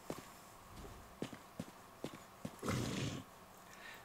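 An armored horse in a medieval open-world game clops with a few spaced hoof strikes, then gives a short loud snort or whinny, close by with faint ambience.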